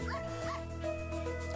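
A cartoonish dog in a pet rescue video game yips and whimpers in short high bursts over steady background music, with no voice talking over it.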